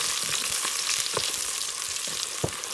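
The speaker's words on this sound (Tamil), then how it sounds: "நல்லா எல்லாத்தையும் சேர்த்து நல்லா கிண்டுவோம்." Chicken biryani with fried onions sizzles steadily in a pot while a spoon stirs it, scraping and clinking at intervals over a constant crackling fry with no speech.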